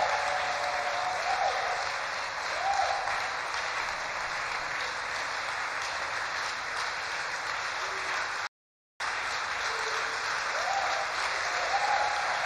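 A church congregation applauds steadily during a thanksgiving service, a dense, even wash of clapping that carries on with a brief gap near the end.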